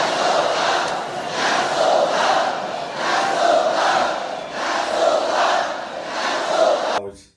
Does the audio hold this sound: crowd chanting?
yes